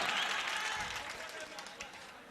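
An audience at a mushaira, an Urdu poetry gathering, claps in a dense, steady wash of applause that fades slightly, with a voice speaking over it.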